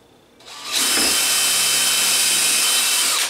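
A power drill spins up and runs steadily for nearly three seconds at close range, loud and continuous with a high whine. It is being used while building an uncoiler for underground gas piping.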